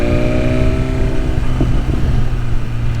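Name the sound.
BMW S1000RR motorcycle with full exhaust riding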